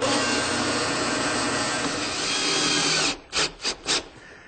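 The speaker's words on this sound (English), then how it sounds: "I'm going to drill another hole here partway through." A power drill whines steadily while boring a hole partway into a wooden clock part for a decorative fake winding hole, then stops and gives three short trigger bursts, close and fairly loud.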